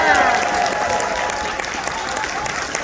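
Convention crowd applauding the staff and volunteers at a closing ceremony, a steady wash of clapping with some cheering that carries on for a few seconds. A voice stays audible underneath.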